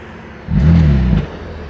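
A single-turbo BMW M3 CS on a launch control attempt lets out one short, deep engine rev lasting under a second, rising sharply and dropping back to idle rumble.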